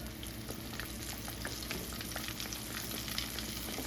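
Flour-coated chicken pieces frying in hot grease, a dense, continuous sizzle and crackle with scattered pops, close and steady, no talking.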